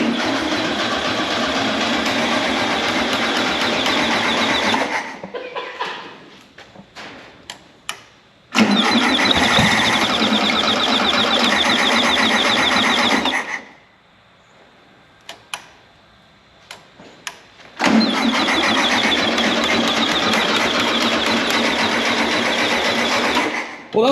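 A 1973 VW Super Beetle air-cooled engine running loudly on a test drive after 17 years off the road, in three long sustained bursts separated by quieter gaps with clicks and knocks.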